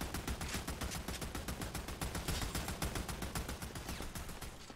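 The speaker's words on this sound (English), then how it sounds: "Yo, you just keep shooting at the air, buddy" Sustained rapid automatic gunfire in Army of Two, a fast even stream of shots at moderate level, steady for several seconds with no talking.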